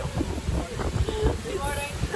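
Strong storm wind on Sanibel Island buffeting the microphone in ragged gusts during a rainy morning, with a voice talking over the roar.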